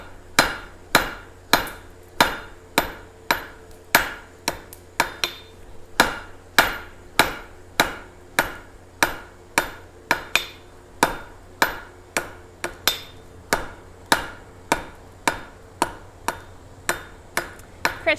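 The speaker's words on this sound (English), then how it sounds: "So let's go back to the anvil. This is good and hot. So again, get it hot and hit it hard." Hot steel is struck hard with a hammer on an anvil at a blacksmith's forge, a loud, close, steady series of ringing blows spaced roughly every half second, with no voices.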